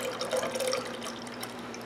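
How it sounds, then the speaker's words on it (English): Pineapple juice poured from a can into a batch of lemonade, a steady close-up splashing and gurgling stream of liquid that continues throughout without speech. "I'm going to pour the whole can in."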